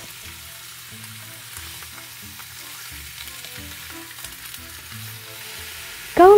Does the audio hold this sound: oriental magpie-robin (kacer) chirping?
no